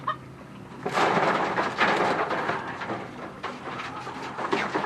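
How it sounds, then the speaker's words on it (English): Chickens cluck and squawk close by as they are fed fish, short bursts of excited bird calls over a faint background. "Here you go, chickens."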